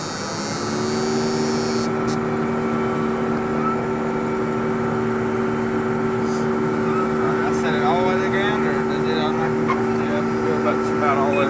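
A combine harvester engine drones loudly and steadily, with strong tonal hum as the separator and header are engaged and the throttle comes up; the machine stays close throughout.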